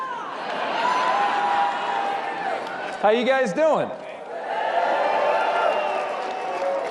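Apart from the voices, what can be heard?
big crowd cheering at a rally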